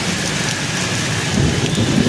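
Heavy rain pours down during a large procession in Solapur, a dense, continuous roar of falling water that stays loud and close, swelling slightly toward the end.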